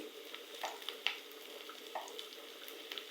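Garlic and onion frying in a pan for taro leaf greens, a faint steady sizzle with a few soft stirring clicks scattered through, no voices.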